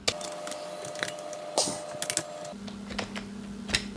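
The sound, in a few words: typing item details on a computer keyboard in Tally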